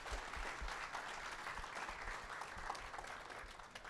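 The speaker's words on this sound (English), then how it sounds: "So a big round of applause to our grade 11 students." An audience at a graduation gala claps for grade 11 students, a steady, fairly distant round of applause with no voices standing out.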